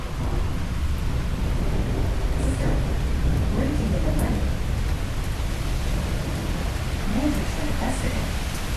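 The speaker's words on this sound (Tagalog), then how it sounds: "Sobrang lakas ng ulan, may kidlat." Heavy rain pours with a dense, constant roar, and distant thunder rumbles low beneath it, close and loud throughout with no voices.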